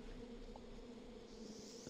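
Bees buzz steadily in The Sims 2: Castaway, a faint, low continuous drone with a slight rise near the end and no speech.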